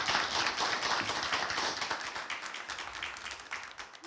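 A studio audience at a televised crowdfunding event for social-economy businesses gives quiet applause, a soft, fairly dense patter of hand claps that sounds distant and gradually thins toward the end.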